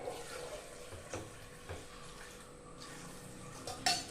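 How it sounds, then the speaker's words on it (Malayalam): Water pours into a pressure cooker of light yellow curry, a soft steady trickle with faint clinks, quiet and close with no talk. "അതിനനുസരിച്ചൊക്കെ വെള്ളം ഒഴിച്ചു കൊടുത്താൽ മതി"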